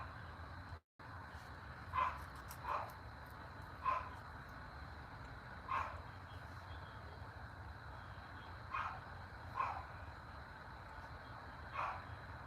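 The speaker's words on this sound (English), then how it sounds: "I'm sorry if you guys hear my dog barking the entire time." A dog barks repeatedly at a distance, single muffled woofs spaced a second or two apart over a steady low hum.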